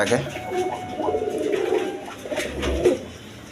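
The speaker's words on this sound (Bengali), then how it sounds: "দর্শকবৃন্দ এখানে এক পেয়ার আউল শার্টিং কবুতর আছে" Owl shirting pigeons, a pair of the breed, give soft, repeated low coos close by, rising near the end, while a person talks over them.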